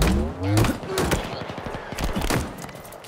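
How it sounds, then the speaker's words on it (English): Rapid bursts of automatic gunfire and scattered shots in the Halo Infinite campaign, a dense clatter of close weapon fire with thumps, with brief game voice sounds mixed in. "Is he actually shooting at me from there?"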